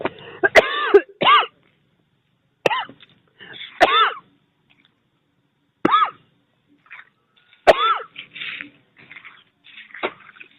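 A person coughs in several separate harsh bursts, some doubled, spaced by short silences over about ten seconds, close and loud with no talking.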